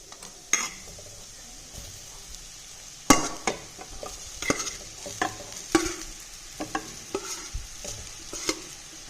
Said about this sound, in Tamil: இப்போ இதோட சாதத்தை நம்ம கிளறிடலாம்